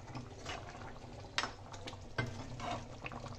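Cauliflower kofta curry stirred in a pan with a spoon, making quiet wet scrapes and a couple of sharper knocks over a soft simmering sizzle.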